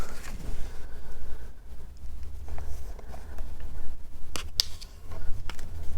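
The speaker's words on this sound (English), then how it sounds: "we're just going to fold these in half" Sheets of print paper are folded in half to make a simple journal, with close crinkly rustling and sliding paper and a few sharper creasing snaps.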